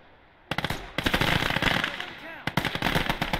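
Machine gun fire in a war video game, the MG on a capture point: several rapid bursts of automatic shots, loud and close, with short gaps between them and a voice talking under part of it.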